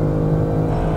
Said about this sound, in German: Oh, der BMW, der zieht weg.